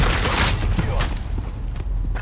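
Rapid gunfire from an online shooter video game, a dense burst of overlapping shots filling the clip with loud, continuous crackle and low booms, with a player's voice talking over it.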